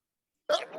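A single sharp human sneeze bursts out abruptly after silence, close and fairly loud, with a brief voiced tail at the end.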